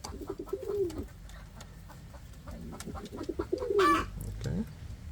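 Indian fantail pigeons coo nearby, a cock pigeon giving repeated low rolling coos in short bursts, with soft rustling between calls and no talking.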